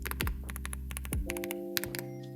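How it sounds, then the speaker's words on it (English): Rapid clacky keystrokes on a slim Keychron mechanical keyboard, close up, in a quick uneven rhythm of taps with no voices. "I just bought this mechanical keyboard. Quick sound test."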